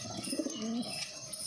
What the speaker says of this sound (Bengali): খালি ডাক দেখো পায়রার, পুরো তাড়িয়ে নিয়ে বেড়াচ্ছে একদম